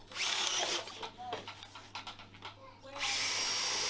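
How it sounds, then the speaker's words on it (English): A power drill whirs in two bursts at the start and end, with people talking and handling noises in between. "You want to drill one, Braxy?"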